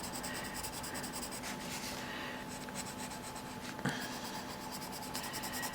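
Continuous close scratchy rubbing of colored pencil shading across paper, steady back-and-forth strokes with a brief tap partway through.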